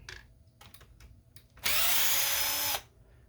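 Near the front bumper of a Traxxas RC car, a cordless power driver whirs steadily for about a second while backing out a 2.5mm screw from the bulkhead, loud and close, after a few small clicks of handling.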